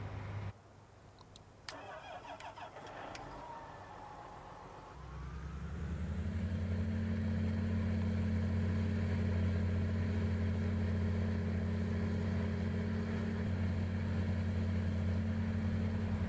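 A video-game tractor engine cranks with a few clicks and a brief starter whir, catches after about five seconds, then settles into a steady, loud, low-pitched idle rumble that continues unchanged.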